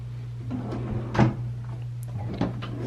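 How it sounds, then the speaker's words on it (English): Soft-close anti-slam drawers in a hotel room beneath the TV, opened and eased shut with a few muffled thuds and slides over a steady low hum, close by and moderately quiet. "and 4 drawers, which are all slow closing, anti-slam"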